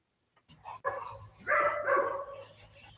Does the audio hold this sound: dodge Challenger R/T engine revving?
no